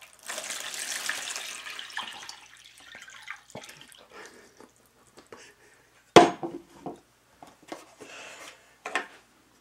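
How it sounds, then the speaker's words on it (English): Water poured from a pitcher into a tub for a classroom physics demonstration, a soft splashing rush at first, then scattered drips and small clinks, with one sharp knock partway through. "Put your water into the tub."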